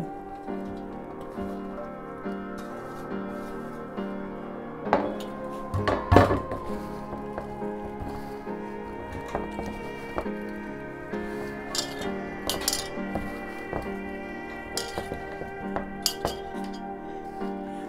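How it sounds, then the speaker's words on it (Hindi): Jackfruit and mango being stirred into a spice mix in a pan, with soft clinks and scrapes of a spoon against metal over a steady sizzle and hum, one louder knock near the middle. "अब मैं बचा हुआ कटहल और आम को भी मिला रही हूँ।"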